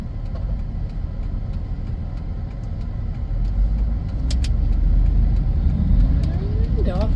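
A 2003 Hummer H2 pulling away, a deep rumbling engine growing slightly louder as it moves off, with a rising whine near the end and a voice talking over it.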